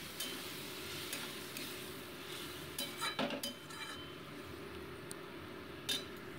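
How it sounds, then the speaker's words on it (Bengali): Fried potatoes sautéed with a chilli, cumin and ginger paste, salt and turmeric in a pan, a faint low sizzle with sparse spoon scrapes and a few metallic clinks against the pan. "এবার এই মশলাটাকে ভালো মতো এটাকে আমি সবজির সাথে কষিয়ে নিচ্ছি"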